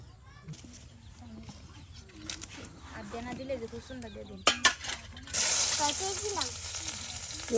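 A paste of garlic, onion, ginger and cumin hits hot oil and sizzles, the frying swelling into a loud steady hiss near the end, with someone talking over it.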